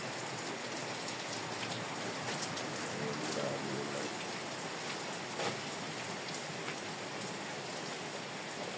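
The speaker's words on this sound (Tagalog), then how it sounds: "Wala talaga, lakas ng ulan." Heavy rain pours down steadily as a dense, even hiss, with no breaks, on a mountain trip in Ilocos.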